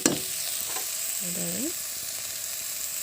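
Lentil batter fries in a pan with a soft, steady sizzle and a short stirring clatter at the start. A voice speaks briefly over it.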